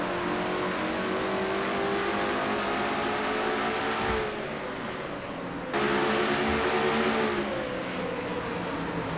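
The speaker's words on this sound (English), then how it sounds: "she comes down the backstretch at about 140 miles an hour" A race car engine in a stock-car racing video game drones loudly and continuously at speed, its pitch sliding down and then jumping back up twice as the car works through the laps.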